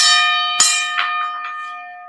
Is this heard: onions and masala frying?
no